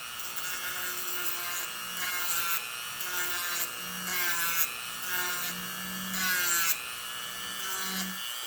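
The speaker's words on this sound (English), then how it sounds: "I'll smooth it up a little bit with the sander." A power sander works over a Samick Royale guitar in a workshop, a steady rasping, rubbing whir that swells and eases in pulses as it passes along the wood, fairly quiet and without speech.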